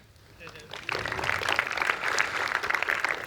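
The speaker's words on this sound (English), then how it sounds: "Let's give them an applause." Audience applause after a conference talk on continuous integration, swelling from quiet into a steady wash of clapping from a room full of people, with some talk mixed in.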